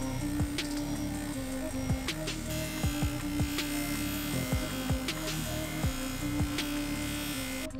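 A coarse polishing pad on a small rotary tool buzzes against a metal motorcycle triple clamp, a steady whine broken by repeated scraping pulses as the pad presses and lifts, close and unaccompanied by speech.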